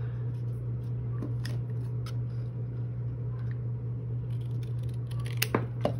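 Scissors snipping along the edge of a card Christmas gift tag, a few short crisp cuts over a low steady hum, the clearest toward the end.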